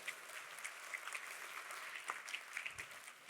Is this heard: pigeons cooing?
no